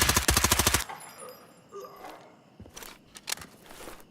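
A rapid burst of gunfire opens the scene in a hardcore extreme AI video game, then sparse, quieter shots, clicks and footstep-like crunches follow across a busy game soundscape.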